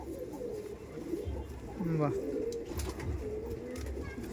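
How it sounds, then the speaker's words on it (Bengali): Pigeons at a loft coo softly in low, repeated calls beneath a person talking nearby, with a brief exclamation partway through. "দেখুন কতটা লং সাইজের পায়রা"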